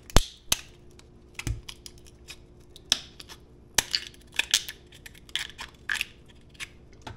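Cooked lobster knuckle shells are cracked and peeled apart by hand, giving irregular sharp cracks and brittle crunching snaps close up, scattered in quick bursts without speech.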